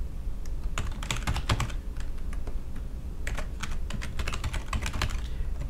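Rapid clicking of a computer keyboard as an email address is typed in, bursts of quick keystrokes with brief pauses, close and clear with no talking.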